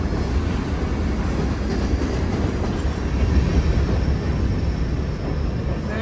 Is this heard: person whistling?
no